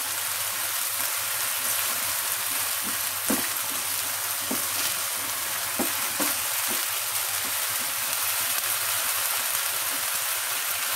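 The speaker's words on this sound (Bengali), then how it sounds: "পেঁয়াজটা ভাজা ভাজা হয়ে গেছে" Onion and garlic fry in a pan with a dense, steady sizzle, close and fairly loud, broken by a few soft clicks of stirring, with no one speaking.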